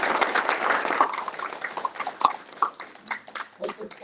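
Conference audience applauding, a dense burst of clapping that thins into scattered, uneven claps toward the end.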